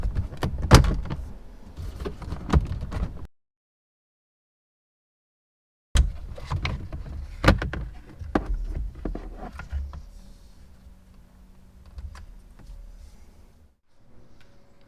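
Plastic clips snap and scrape as a Mitsubishi Evo X instrument cluster is pulled from the dashboard, with sharp clicks and rustling close by, a silent gap, then further clunks and handling noises fading toward the end.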